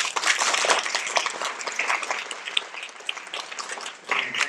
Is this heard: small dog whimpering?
no